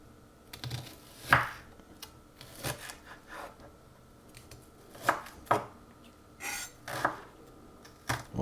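A knife chops onions on a cutting board in a home kitchen, sharp irregular knocks spaced out with short pauses, close and clear over a quiet background.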